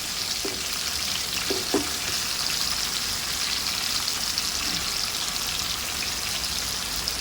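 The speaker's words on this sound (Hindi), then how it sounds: "यहाँ पे देखिए जो बैगन हैं हम सारे इसके अंदर डाल देंगे।" Stuffed eggplants placed into a pan over tomatoes fry with a constant loud sizzle and crackle, a few soft knocks and stirring sounds over the hiss.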